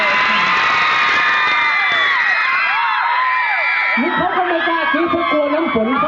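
A large crowd screams and cheers loudly and continuously, high-pitched shrieks layered together, with excited shouting voices rising toward the end.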